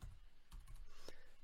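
Typing on a computer keyboard, a few quiet close-up key taps in quick irregular succession against a faint background.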